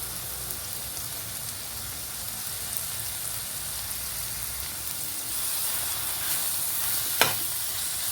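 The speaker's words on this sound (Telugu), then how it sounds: "కొత్తిమీర వేసుకొని ఒక 2 నిమిషాలు వేయించుకొని పక్కన పెడదాం" Coriander leaves fry with tomato in a pan for an ivy gourd sesame pickle, giving a steady, even sizzle close by, with one brief sharp tap near the end.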